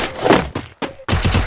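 Bursts of gunfire from the Free Fire MAX video game during a ranked match, several loud, close shots in quick succession broken by short gaps, with no talking.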